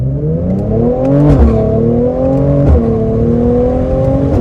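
A Mercedes-AMG C43 engine revs up loudly nearby, its pitch rising and falling in a few throaty surges with a deep, sporty growl.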